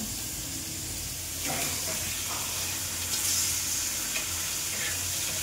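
Fish frying crisp in a pan at home, a soft continuous sizzle with a few scraping stirs and brief clatters, heard fairly quietly with faint background murmur.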